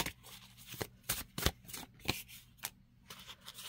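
Tarot cards are shuffled close by, a run of quick riffling and flicking bursts at an uneven pace, fairly quiet with no talking.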